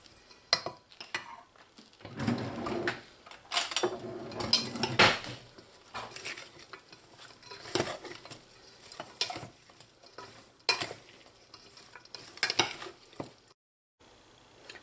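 Onions and tomatoes being mixed in a pot for Trinidad stewed fish, with bursts of utensil scraping and clinking against the pot, irregular and close, plus a faint sizzle between strokes.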